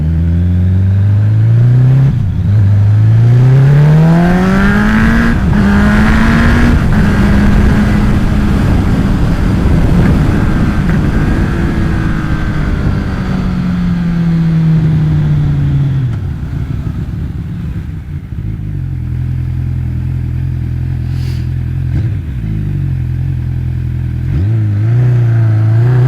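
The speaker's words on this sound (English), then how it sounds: "It's an amazing sounding engine." An MV Agusta Brutale 1090RR motorcycle engine revs and pulls hard while riding, loud and close, with pitch rising and falling through repeated accelerations and gear changes over a continuous roar.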